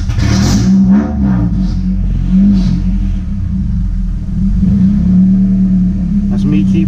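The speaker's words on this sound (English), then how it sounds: "That's me keeping it alive with my foot being steady on the throttle." A car engine held just off idle by a steady foot on the throttle during engine tuning, a loud continuous rumble that swells and eases slightly, close by, with some voice mixed in.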